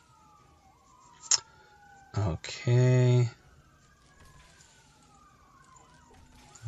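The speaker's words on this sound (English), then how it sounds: "Sirens in the background." Police sirens wail faintly in the distance in Anaheim, California, their rising and falling tones drifting under a short word and a few brief electronic chimes.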